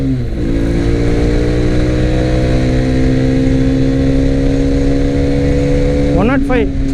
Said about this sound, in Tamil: எல்லா ஷிஃப்ட்டுமே நான் 8000 ஆர்பிஎம்லாம் ஷிஃப்ட் பண்ணுறேன்.